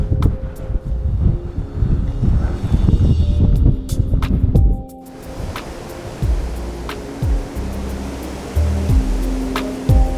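Strong, gusty wind buffets the microphone outdoors in a loud, continuous roar that surges for several seconds, then drops back to a lower, steadier rush with occasional thumps.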